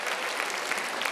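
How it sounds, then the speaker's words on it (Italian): Audience applause at an Italian stand-up comedy show, a steady dense burst of clapping heard alone and fairly loud throughout. "Questo era un applauso da Chernobyl!"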